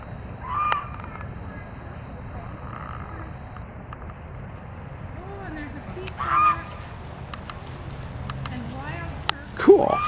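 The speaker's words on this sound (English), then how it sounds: "those are the turkeys, they're delicious" Turkeys calling at a zoo, with short gobbling and honking calls scattered through a noisy outdoor background, moderately distant, one louder burst near the end, and people talking nearby.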